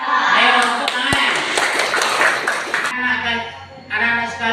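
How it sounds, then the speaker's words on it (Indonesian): Children clap their hands in a Quran-reading and singing lesson, a few sharp claps mixed with sung or spoken voices and a brief pause near the end. "Ayo, tepuk tangan."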